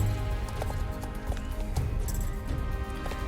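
Pony hooves clip-clop in a steady, even rhythm in the Star Stable Online video game, a continuous trotting beat with faint background game ambience.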